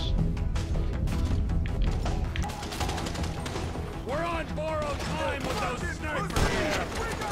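Sniper and other gunfire crackle through a firefight in Grand Theft Auto V, dense bursts of shots with chaotic overlapping booms and whistling sounds, loud and continuous, with a voice faintly underneath.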